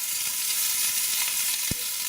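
Vegetables fry in a pan with meat juices from braised ox cheeks, a close, constant loud sizzle with a soft knock of a utensil near the end.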